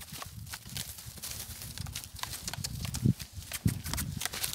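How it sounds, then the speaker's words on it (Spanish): Hooves of a thoroughbred horse being ridden on a ranch clip-clop in a loose walking rhythm, with a couple of sharper, louder hoof strikes near the end over low outdoor background noise. "Ando en mi caballo pura sangre"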